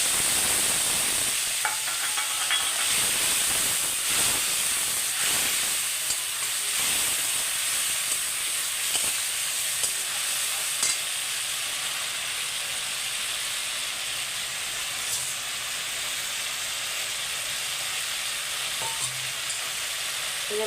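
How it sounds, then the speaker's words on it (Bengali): A paste of green chilli and turmeric fries in a pan for katla fish head curry, with a steady, loud, close sizzle and hiss that runs throughout. "মশলাটাকে ভালো করে কষিয়ে নেব।"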